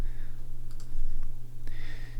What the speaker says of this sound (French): je vais faire directement le raccourci clavier Commande M ou Ctrl M